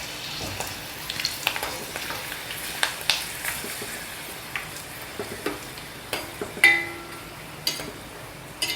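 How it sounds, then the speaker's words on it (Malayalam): Small pieces of papadam frying in hot oil for a sadhya pappada curry, a soft continuous sizzle broken by scattered crackles and pops, close and steady with no talk. "അപ്പോൾ ആദ്യം ഞാൻ പപ്പടം ഒന്ന് വറുത്തെടുക്കട്ടെ."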